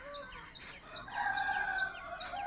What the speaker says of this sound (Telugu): చూడండి, కోడి అరుపులు ఎంత బాగా వినిపిస్తున్నాయో.